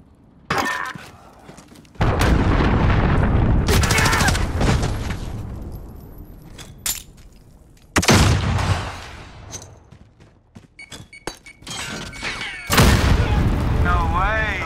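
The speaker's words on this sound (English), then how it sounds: "Enemy cruise missile incoming." Heavy explosions from an incoming cruise missile strike in Call of Duty: Modern Warfare, several loud booming blasts with crashing debris in separate bursts, with occasional brief voices between them.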